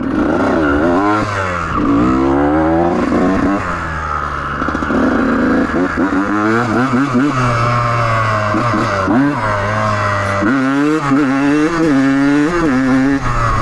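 A two-stroke Kawasaki KX125 dirt bike engine revs hard and repeatedly on a track, its loud buzzing pitch climbing and falling in quick waves, close by and continuous.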